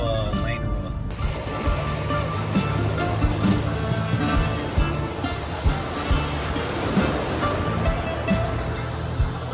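Ocean surf washes steadily beside a narrow single-lane cliff road at sunset, a broad continuous roar with a few louder swells.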